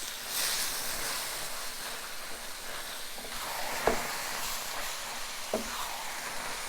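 Low-carb breakfast food frying in a large skillet over fairly high heat, a steady soft sizzle throughout with a couple of brief stirring scrapes and no talk.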